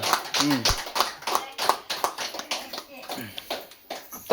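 Several people clap in a scattered, uneven rhythm at a small birthday felicitation held in an ashram, with voices and a child's speech mixed in among the claps.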